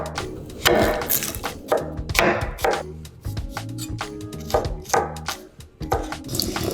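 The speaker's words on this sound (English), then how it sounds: "We'll start by chopping the chicken thighs into chunks." A kitchen knife chops chicken thighs into chunks on a cutting board, with repeated close, crisp knocks falling in uneven bursts and short pauses between them.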